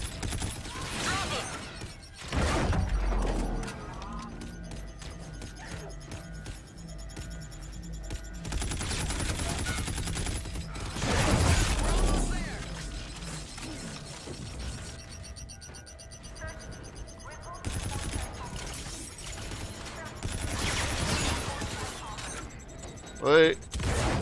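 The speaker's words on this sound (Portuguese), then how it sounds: "Ouvi tiros, meu." Bursts of rapid gunfire in the video game Call of Duty: Infinite Warfare come in several loud volleys with quieter gaps between, alongside mechanical clatter and faint voices.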